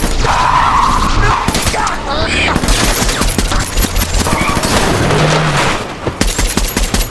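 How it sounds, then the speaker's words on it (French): Gunfire in an action film about a lone assassin: rapid bursts of shots crack and rattle over tense scoring, with debris and impacts mixed in, loud and close. "commence par tirer"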